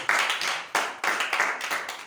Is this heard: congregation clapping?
yes